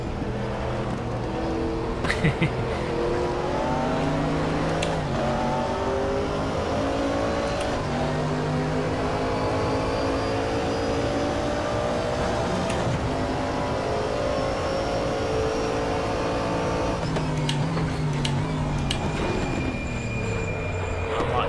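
A GT3 race car engine in the RaceRoom racing game, droning steadily with rising and falling revs through gear changes, loud and continuous across the whole stretch, with occasional faint tyre squeal.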